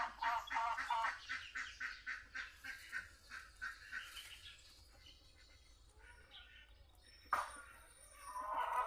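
Outdoors in the countryside, a chicken squawks in a rapid rhythmic series of loud, harsh calls that then fade, with a later sharp burst and renewed squawking; a person talks faintly in between.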